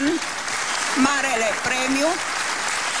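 Audience applause at the Strugurele de Aur national folk festival in Alba Iulia: steady, broad clapping throughout, partly masked by a man announcing over it.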